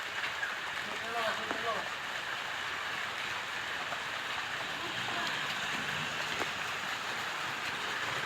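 Rain falls outdoors as a faint, steady hiss, with brief distant voice-like sounds drifting in now and then.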